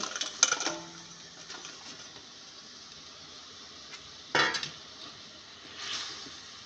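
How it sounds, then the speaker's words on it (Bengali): Paneer stirred into a gravy in a pan: faint quiet bubbling under a few scattered metallic clinks and scrapes of a spoon against the pan. "একটু ফুটে উঠলে আমি পনিরগুলো ঢেলে দেবো"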